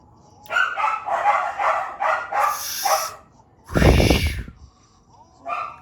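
A dog barks indoors in a series of yelps, then lets out one loud, close bark, with a short further yap near the end.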